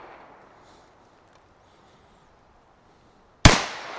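A single sharp gunshot from an NAA mini revolver cracks loudly and close after a quiet stretch, followed by a short ringing decay.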